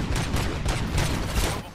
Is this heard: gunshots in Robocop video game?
yes